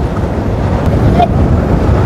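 Strong wind buffeting the microphone outdoors during a mountain bike race, a loud, constant low roar and rumble that fills the whole moment without pause.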